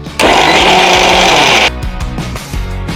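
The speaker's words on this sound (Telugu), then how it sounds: "అవి కూడా ఇందులో వేసేసి మిక్సీ పట్టేస్తా" A mixer grinder blending coconut, garlic, onion and chilli powder roars in one loud burst of about a second and a half, then cuts off, leaving quieter kitchen sounds.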